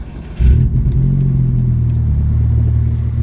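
Turbocharged Chevrolet Cobalt SS starts or blips with a sharp jump, then settles into a loud, steady, close-up rumbling idle with a slightly clattery edge.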